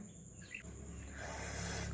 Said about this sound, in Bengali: আর তার সাথে পাখি ডাকছে।